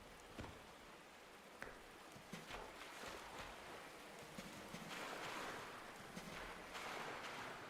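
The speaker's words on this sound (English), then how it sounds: "I think it's just me running around in the water." A character runs through water in a backrooms-style horror video game, giving a steady broadband splashing wash with soft repeated sloshes throughout, fairly quiet and with no talking.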